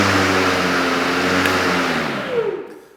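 A Milwaukee M18 FUEL 21-inch self-propelled dual-battery lawn mower runs with a loud, steady electric motor whine that holds, then winds down and fades near the end.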